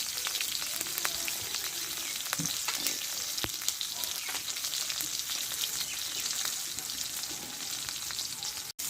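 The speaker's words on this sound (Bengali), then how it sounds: "টমেটোটা ভালো করে ভেজে নিয়েছি" Tomatoes fry in a pan for a vegetarian dish, a dense, steady sizzle with occasional crackles and clicks of stirring, ending in a brief knock.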